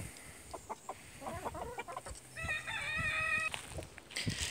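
A flock of black Australorp hens clucks softly in short bursts while a rooster nearby lets out a clear, drawn-out crow midway through, all fairly quiet outdoors.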